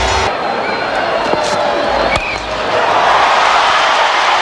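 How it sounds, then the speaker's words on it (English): A cricket crowd cheering a boundary shot by Brian Lara, a broad, continuous roar of spectators from a distance that holds steady and swells slightly toward the end. "That's got the crowd jumping."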